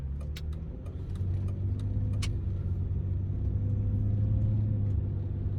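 An old Range Rover engine drones loudly and steadily from inside the cabin while driving on the road, a deep continuous rumble with no talking over it.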